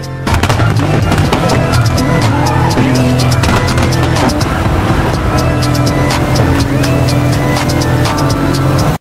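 Loud, continuous rally car engine roar in the video game WRC 5, with crackling pops and tire squeals, sustained throughout with no pauses.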